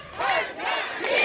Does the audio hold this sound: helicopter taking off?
no